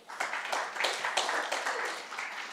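Congregation clapping for God during an online youth church service, a steady dense patter of many hands at moderate volume throughout, with no voices standing out.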